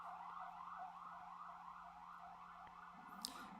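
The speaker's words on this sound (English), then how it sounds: "let's continue. After this ambulance goes away" An ambulance siren wails in a steady rising-and-falling pattern throughout, fairly distant and continuous, with a brief sharper chirp near the end.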